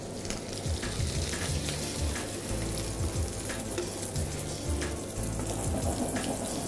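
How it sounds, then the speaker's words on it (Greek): Beaten eggs with San Michali cheese frying with shrimp in a pan on a gas stove, a steady close sizzle and crackle running continuously with faint stirring, no talking. "κάνουμε ένα πολύ γρήγορο και πολύ πιο ωραίο τηγάνισμα"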